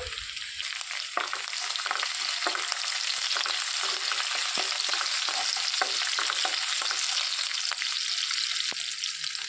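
Dried red chillies and finely cut green chillies fry in hot oil in a pan while being stirred, with a dense continuous sizzle and repeated scraping strokes from the spoon close by.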